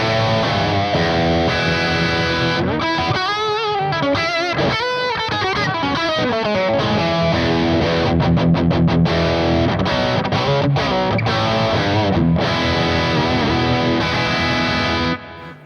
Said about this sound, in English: So this is Wizard Chunk, and this is what it sounds like through a Marshall.